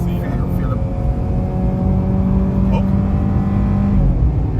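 Modified VW Polo engine revving loudly and steadily from inside the car, a sustained low drone with speech over it; distinct exhaust pops are not clearly separable.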